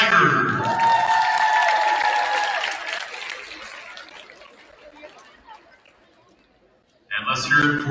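Spectators at a women's varsity high school basketball game break into loud applause and cheering that slowly dies away, then surge again in a sudden renewed burst at the close.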